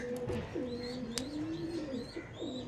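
Three female pigeons coo in soft, rolling, low calls, close by, with faint chirps and a sharp tick in the background.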